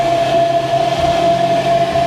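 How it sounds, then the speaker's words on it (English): A Sea-Doo Sportster boat's blower fan runs as a steady, close whirring hum with a constant tone, loud and unbroken, with no voices over it. "let's just have a turn the blower on first"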